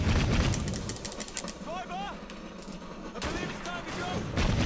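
Bursts of gunfire in the Assassin's Creed Syndicate video game, with loud rapid volleys at the start and end and a quieter stretch between, while people talk over the shots.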